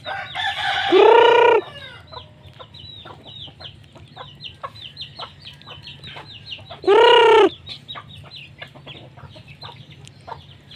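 A rooster crows loudly twice, several seconds apart, while hens cluck softly and steadily in between.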